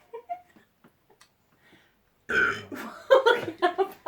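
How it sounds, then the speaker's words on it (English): A loud, close, drawn-out burp rumbling for about two seconds with a few throaty bursts, after a stretch of faint quiet noises. "I'm still belching"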